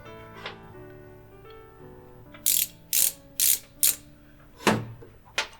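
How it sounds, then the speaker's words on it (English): The ratchet wheel on a Fenix HL32R-T running headlamp's headband clicks in a handful of crisp, close snaps, spaced about half a second apart, over a faint background hum. "you start tightening this ratchet wheel"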